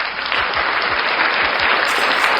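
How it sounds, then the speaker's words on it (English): Canned applause plays from a soundboard, a dense, loud, steady wash of crowd clapping that fills the whole moment without any speech. "we'll definitely give you guys a round of applause for making it top"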